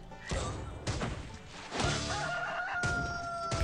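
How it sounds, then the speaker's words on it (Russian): A rooster crowing in the video game Swamp Attack 2, heard amid several loud game crashes and hits, with bursts recurring over a few seconds. "Петушара кукарекает"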